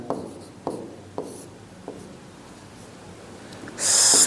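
Pen or chalk strokes during a maths lesson make a few sharp taps and scratches spaced about half a second apart, followed by a quieter stretch and then a sudden burst of noise at the end.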